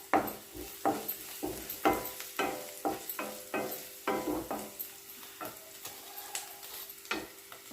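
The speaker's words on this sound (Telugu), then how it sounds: "ఇప్పుడు పసుపు వేసుకొని అంతా కలుపుకోవాలి." Carrot and beans fry in a pan as turmeric is mixed in, with rhythmic spatula scrapes and knocks against the pan repeating every half second or so over a low sizzle.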